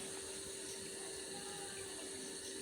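Water runs steadily from a tap during face washing, a constant close hiss and splash with no pauses and no talking over it.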